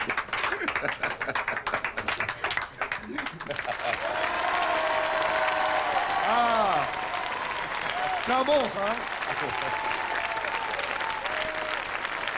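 An audience applauds with brisk, dense clapping for a few seconds, then it fades as people begin talking.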